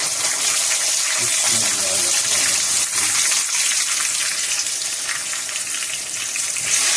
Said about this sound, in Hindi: ये जब अनियन इस कंडीशन में आ जाए तो इसमें एक छोटा छोटा कटा हुआ टमाटर डाल दें